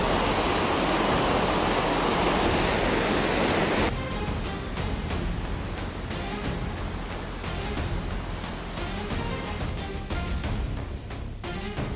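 The Qiantang River tidal bore rushing in as a loud, dense roar of surging water, steady and broadband, shifting to a slightly thinner churning wash partway through.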